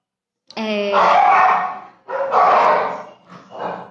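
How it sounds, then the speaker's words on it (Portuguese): A pet dog barks indoors, three loud, close yelping barks with short gaps between them, the first one rising into a whiny yip. "Meu cachorro tá participando da live"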